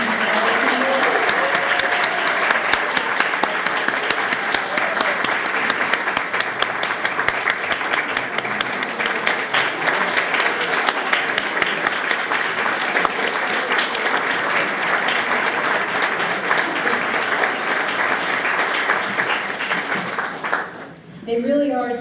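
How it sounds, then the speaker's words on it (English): A crowd at an awards ceremony honoring young professionals claps in a long, steady round of applause, loud and sustained for about twenty seconds before tapering off, with some voices mixed in. "Can we please have one more round of applause for all of our young professionals?"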